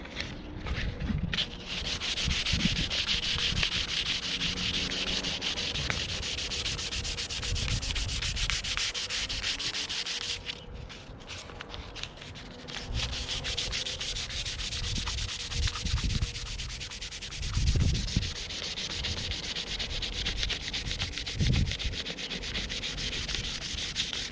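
Wooden woomera atlatl hand sanded with 220 grit sandpaper, continuous close rasping strokes with brief pauses and shifts in pressure, no talking.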